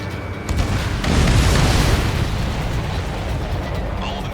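Missiles detonate in the Ace Combat 7 flight game, a broad rumbling blast that swells after half a second, holds loud, then fades into a long sustained roar.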